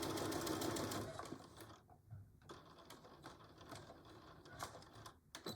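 A domestic sewing machine stitches fabric for a Betty Boop pillow cover, its rapid needle clatter running in steady mechanical bursts with a few brief pauses, close and fairly loud, with no talking.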